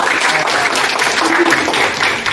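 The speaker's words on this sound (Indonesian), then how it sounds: "Luar biasa, tepuk tangan." Students clap together in a classroom during a lesson, a short burst of loud, fairly dense applause with faint voices mixed in.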